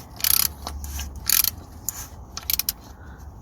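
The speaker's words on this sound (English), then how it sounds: "just gonna tighten it with the ratchet" A ratchet fitted with a 27mm socket tightens the oil filter housing on a Nissan Qashqai, giving short bursts of rapid clicking separated by brief pauses and light handling noise.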